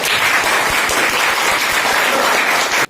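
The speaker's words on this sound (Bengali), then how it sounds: "স্যারের জন্য জোরে হাততালি হোক" An audience at a school workshop applauding, dense, loud and continuous clapping from many hands that stops abruptly at the end.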